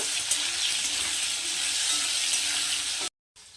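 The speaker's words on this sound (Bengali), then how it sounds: "তো বন্ধুরা ওদিকে আলুটা তো ভাজা হচ্ছে" Salted potatoes frying in a pan, a steady loud sizzle that cuts off abruptly near the end before resuming briefly.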